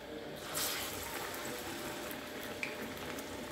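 Vada batter frying in hot oil, a soft, steady sizzle and bubbling that holds at a low, even level throughout with a brief louder burst near the start.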